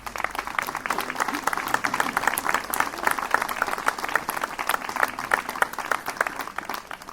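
Audience at a November 11 commemoration ceremony in Aubais applauding children who sang and read, a steady moderate patter of many hands clapping that fades near the end.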